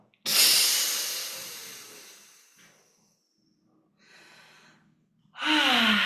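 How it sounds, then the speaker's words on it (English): A long, audible breath exhaled as a group in a guided breathing exercise, a loud airy rush that slowly fades, followed by quieter breaths and a second strong breath near the end. "Together we exhale."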